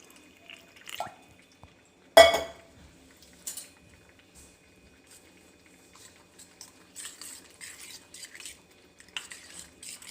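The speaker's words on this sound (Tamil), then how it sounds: "இதில் கொஞ்சம் தண்ணி விட்டு கலக்கி வச்சுக்கலாம்." A little water is added to two teaspoons of rice flour in a small vessel and stirred for a mango kaadi, giving sparse drips, a sharp clink and soft scraping clatters close by, with quiet gaps between.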